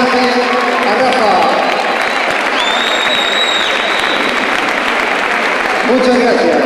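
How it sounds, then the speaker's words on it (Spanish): Crowd applause at a combat sports event in tribute to Rafael Fernández fills the hall in a continuous loud wash of clapping and cheering, with a voice speaking over it. "Fuerte el aplauso, tan merecido homenaje a Rafa."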